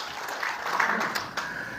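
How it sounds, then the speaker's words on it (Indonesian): A church congregation applauds during a sermon, a steady wash of many hands clapping at moderate volume for about two seconds with no one speaking over it. "tepuk tangan bagi Yesus"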